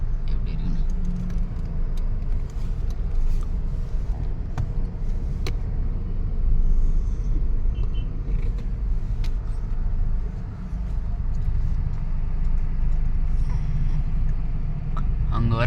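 Steady road traffic in a jam on a Hosur trip, a dense low rumble of idling cars, buses and other vehicles close by, continuous throughout with faint murmurs of voices underneath.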